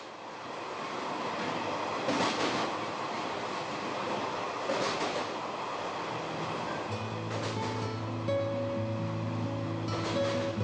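A train on Taiwan's single-track South-Link Line near Fangshan station, Pingtung, rumbles steadily along the tracks with rhythmic clacking, and a sustained tonal whine or horn rises near the end.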